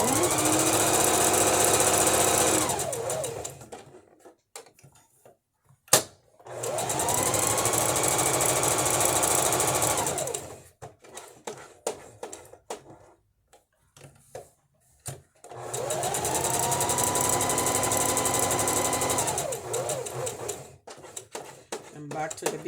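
A home sewing machine runs in three long stitching bursts as shapes are sewn, each steady whir lasting several seconds with a rising and falling pitch, separated by quiet pauses filled with small handling clicks.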